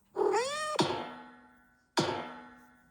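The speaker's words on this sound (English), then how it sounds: "But it was just an old alley cat looking for his lunch." An old alley cat gives one drawn-out meow, followed by two hollow thunks that each ring briefly and fade, close and clear with no talk.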